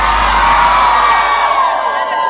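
A concert crowd at a funk show in Osasco shouts and cheers loudly in a sustained roar. The sound is dense and continuous and stays at full strength throughout.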